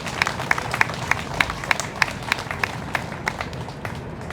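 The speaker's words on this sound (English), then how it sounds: "let's give them a round of applause as well" A small outdoor gathering at a park playground ribbon-cutting claps for the park volunteer group, a quiet, fairly distant patter of hand claps with a steady rhythm throughout.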